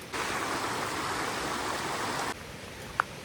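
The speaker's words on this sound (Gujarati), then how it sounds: "બીજી બાજુથી જે ઝરણા પડે છે તેનો ખડખડતો અવાજ તમને સંભળાય છે" Stream water spills down at the Pavagadh waterfall in a steady, moderately close rushing hiss that suddenly drops in level partway through, followed by a brief faint tap near the end.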